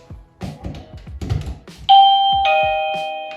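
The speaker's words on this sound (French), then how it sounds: "ce carillon va sonner pour t'indiquer que quelqu'un veut rentrer" A plug-in wireless doorbell chime for a Tuya/Smartlife connected video doorbell rings loud and clear with two sustained bell tones after some handling noise, ringing out and decaying.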